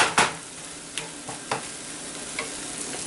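Mushrooms and green chili cook in a pan with a soft, steady sizzle, punctuated by several distinct spatula taps and scrapes against the pan, close by and without speech.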